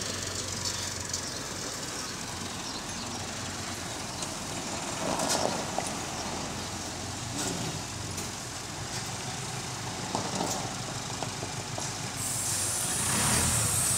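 A loaded truck straining to pull away from a standstill on an incline, tyres set on boards, its engine droning steadily with rattles and hissing bursts like air brakes, continuous and fairly loud throughout.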